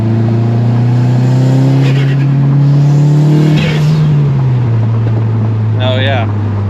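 A car, apparently an all-wheel-drive model at a cars-and-coffee meet, revs hard with a steady loud engine drone that rises and then falls as it passes close by, with faint voices under it.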